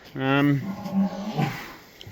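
A dairy cow in a barn lets out one loud, drawn-out moo close by, followed by softer lowing and faint barn background noise.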